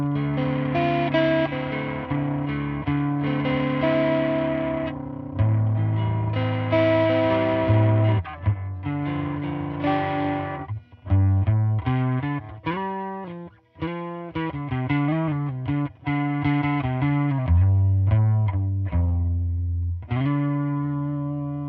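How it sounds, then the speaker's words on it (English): Electric guitar through a Boss RT-2 Rotary Ensemble pedal on mode 1 with drive at maximum, into a Princeton Reverb amp: overdriven chords and single notes with a swirling rotary-speaker wobble, played alone in short phrases with brief gaps. "If I put the drive at maximum on mode 1"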